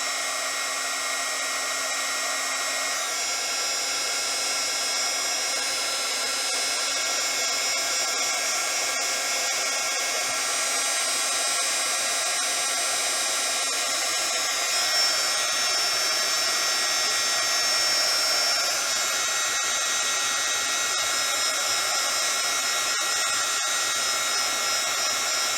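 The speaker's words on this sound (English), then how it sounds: "I'm going to go ahead and heat emboss this. Let my heat gun heat up for a moment." A heat gun blows continuously while heat embossing a stenciled birthday card, a loud steady whirring roar of hot air that holds for the whole stretch with only slight shifts in tone.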